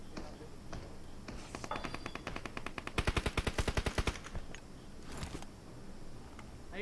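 Gunfire in the mobile battle-royale game PUBG Mobile: a rapid automatic burst fills the middle, with a few scattered shots before and after, and faint voices underneath.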